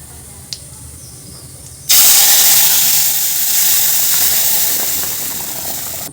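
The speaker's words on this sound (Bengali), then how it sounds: "শুকনো লঙ্কা আর তেজপাতা নিয়ে নিয়েছি, দিয়ে দেবো এটা আমি ফোড়নে।" Dried red chillies and bay leaves hit hot oil for a tempering, setting off a sudden loud, steady sizzle that holds near and strong for several seconds after a quiet start.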